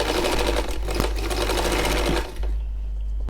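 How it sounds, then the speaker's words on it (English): A sewing machine stitching fabric seams for a turban cap, a loud, close, rapid mechanical whirr that runs steadily, briefly slows, then resumes. "In sewing it together, you sew together just with a 1/4 of an inch."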